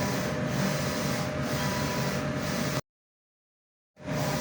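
A sublimation printer runs a nozzle test with a steady mechanical whirr and faint rhythmic pulses as the head carriage moves. It stops abruptly into silence for about a second, then starts again.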